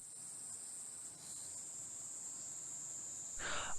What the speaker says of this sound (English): So at night, with the sound of crickets.